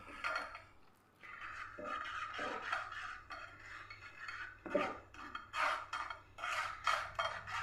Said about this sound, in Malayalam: ഇതേപോലെ ഒരു അരിപ്പ വെച്ച് കൊടുത്തിട്ടുണ്ട് ഇനി നമ്മൾ ഈ അരിച്ചെടുത്ത് നമ്മുടെ ഈ ഒരു മാങ്ങാ മിക്സ് നമുക്കിതിലേക്ക് അങ്ങ് ഒഴിച്ച് നല്ല പോലെ ഒന്ന് അരിച്ചെടുക്കുക